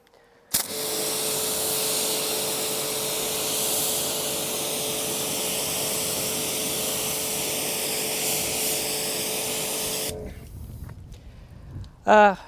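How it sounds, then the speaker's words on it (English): A Lidl Parkside pressure washer with a white 40-degree nozzle rinses snow foam off a car, a loud, steady hissing spray that starts abruptly and runs for about ten seconds before cutting off. A short sound follows at the end. "So I'm just going to rinse it off with the white 40-degree nozzle."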